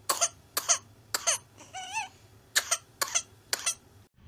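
A person imitates whooping cough: a series of sharp coughs broken by a rising, whooping intake of breath, close and alone.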